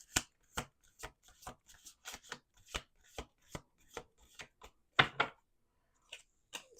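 A deck of tarot cards is shuffled by hand in quick, quiet bursts of riffling taps, close and soft, with short pauses between them and a louder flurry near the end.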